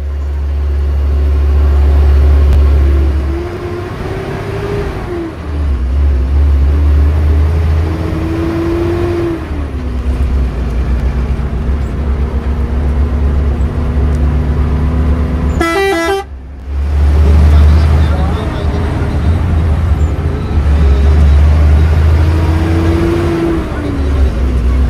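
An HRTC bus drives along a Himachal road from Chandigarh toward Hamirpur, its engine droning loudly and continuously from inside, gears shifting, with a sharp horn blast midway and speech in the background.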